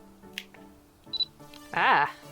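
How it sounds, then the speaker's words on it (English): Paper Shoot camera shutter button pressed, giving a short click, then a brief higher beep-like tone and a louder burst near the end, with a person speaking around it. "This here's actually the shutter button, so I think you just have to press it and it takes a photo."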